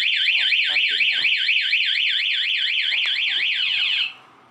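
A DTX car anti-theft alarm sounds loudly, a rapid warbling siren sweeping up and down in quick regular cycles, mixed with faint clicks and low background noises, before cutting off abruptly near the end.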